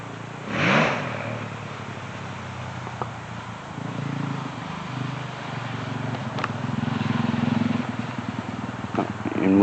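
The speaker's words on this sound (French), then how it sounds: "Une moto qui passe, on va attendre 5 minutes." A motorcycle engine drones and swells as it passes along an outdoor road, its rumble rising steadily toward the end over faint clicks and background noise.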